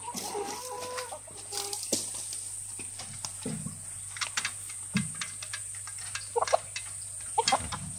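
Chickens cluck softly and sporadically nearby over a faint steady hum, with scattered light scratching and pecking sounds.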